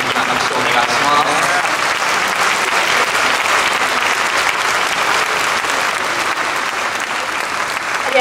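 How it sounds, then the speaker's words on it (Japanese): An audience claps loudly and continuously for the organisers of a swing jazz event at a Kobe harbour theatre, a dense, even wash of applause that holds from start to finish. "深田このイベントを開催してくれた実行委員の皆様に大きな拍手をお願いします"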